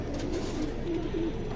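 Pigeons of the silver, bezi, pankhi and sharasari lines coo in a steady, low, rolling murmur that sounds close and continuous, with no talk.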